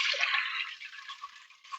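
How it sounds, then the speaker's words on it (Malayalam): Soaked rice, wheat and fenugreek tipped with their soaking water into a pressure cooker, giving a soft, steady watery pour and splash that tapers off with a few drips, with no talking. "കുക്കറിലേക്ക് ഈ വെള്ളത്തോടെ തന്നെ ഒഴിച്ചു കൊടുക്കാം"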